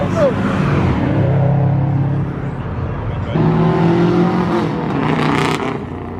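A stock Mitsubishi Evo revs and pulls away at a car meet, its engine note rising in two loud surges with whine, while people chat and crowd noise carries on nearby.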